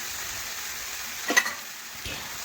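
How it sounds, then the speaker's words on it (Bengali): Mushrooms being stirred and spread in a frying pan, with a soft steady sizzle throughout and a short burst of scraping near the middle, then a fainter one shortly after. "এই দেখুন আবারও নাড়াচাড়া করে একই রকমভাবে বিছিয়ে দিলাম।"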